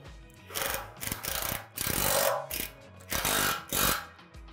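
Hardware being tightened to fasten the handle to the pole of a Lifetime Mammoth bolt-down basketball hoop: repeated bursts of close metallic ratcheting clicks in short, uneven runs, with no talk.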